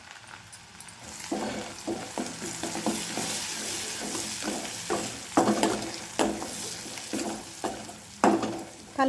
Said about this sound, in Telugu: తిప్పుకుంటూ ఉండండి. ఉల్లిగడ్డలు మాడిపోతాయి.